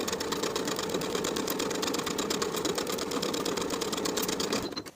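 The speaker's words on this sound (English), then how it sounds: "Sew the center seam with a 3/8 inch seam allowance" A sewing machine stitches a center seam in the lining of a tie-front summer vest, a rapid continuous mechanical rattle at steady speed, close and clear, stopping abruptly at the end.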